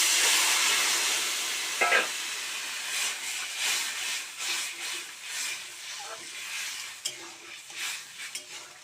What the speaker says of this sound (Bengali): আমি এবারে তরকারিটা ঢেলে নেবো।